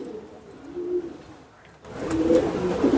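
A racing pigeon coos softly in a few low, throaty bursts, quiet at first and then closer and louder after a sudden shift in background noise, with no speech.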